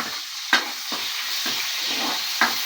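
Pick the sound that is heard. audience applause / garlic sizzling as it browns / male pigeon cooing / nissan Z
garlic sizzling as it browns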